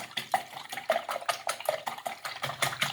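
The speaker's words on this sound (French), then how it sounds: "Avec le fouet, on les bat en omelette." Eggs beaten with a whisk in a bowl for pain perdu, with a fast, rhythmic run of close clicking, wet strokes that continues throughout and no speech.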